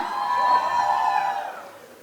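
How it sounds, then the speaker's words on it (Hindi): An audience at a sangeet night cheers and claps for the cousins' performance, a moderate crowd swell that holds for a second and a half, then fades. "एक बार कजिन्स के लिए दोस्तों जोरदार तालियां हो जाए"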